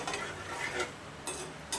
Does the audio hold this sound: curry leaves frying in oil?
yes